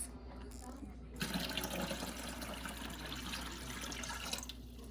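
Filtered water pours steadily into a NewAir countertop ice maker, a continuous splashing fill that starts after about a second and runs for several seconds before tapering off, close and fairly loud.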